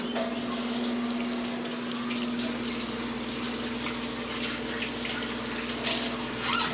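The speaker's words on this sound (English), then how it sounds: "You didn't have to film washing hands" Tap water runs steadily into a kitchen sink while hands are washed, a continuous close splashing hiss with a faint pump-like hum underneath and no talking.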